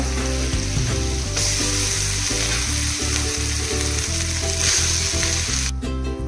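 Cooked rice is stirred into fried masala in a hot pan, giving a constant loud sizzle with repeated scraping strokes from the spoon. A steady hum runs underneath.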